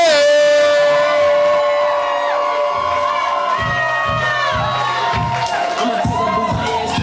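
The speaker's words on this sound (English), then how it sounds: "We're clapping. We're building energy." A live audience at a spoken-word poetry event in Houston cheers and whoops loudly for a poet. A sustained bright shout rings out at the start, then clapping and voices continue at a constant level, with a host talking over the crowd.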